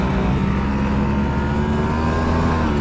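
A Simson moped engine revs close by, a sustained buzzing mechanical drone with steady harmonic pitch that holds across the short stretch without pause.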